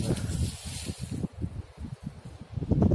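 Gusty wind buffets the microphone outdoors during metal detecting in Belarus, a low rumbling roar that rises and falls, with scattered rustling throughout.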